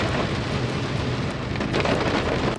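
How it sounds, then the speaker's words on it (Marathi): Heavy rain pours steadily throughout at night near Bhimashankar, a dense, loud hiss of drops with no pauses and no voices. "अंधार आहे आणि तुफान पाऊस आहे"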